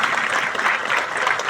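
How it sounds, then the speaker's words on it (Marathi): Dense audience applause at a school award ceremony honouring meritorious students and teachers, steady clapping throughout with no voices over it. "मला असं वाटतं एकदा जोरदार टाळ्या झाल्या पाहिजेत"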